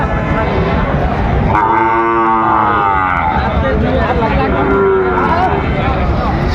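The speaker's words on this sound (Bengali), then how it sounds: "বেশ সুন্দর বাচ্চা শাহিওয়ালের, একেবারে হাই কোয়ালিটির" A Sahiwal calf gives one long, loud, close moo at a livestock market. Crowd chatter and bargaining voices carry on underneath throughout.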